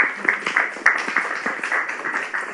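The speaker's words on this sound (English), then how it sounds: "An applause." A small audience at a flood forecasting game applauds a winner with a brief, close burst of scattered hand claps that fades unevenly.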